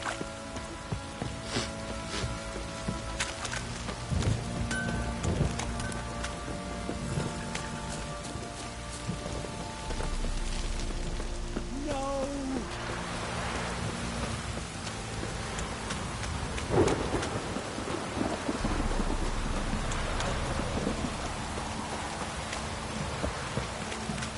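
A rainstorm in the video game The Witcher 3 brings steady, heavy rain pattering on surfaces throughout. Faint rolls of thunder sound in the distance, with no talking.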